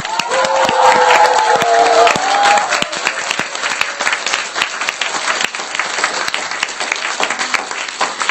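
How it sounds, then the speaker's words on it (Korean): A crowd at a lecture event in New York bursts into loud applause mixed with cheering and shouts, a sustained roar of clapping that stays strong throughout with a few whistles near the start. "저희 잘했다라고 생각하시면 함성과 박수"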